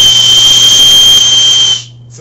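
A flashlight stick with a built-in whistle blown in one loud, steady shrill blast lasting nearly two seconds, then cut off sharply into quiet.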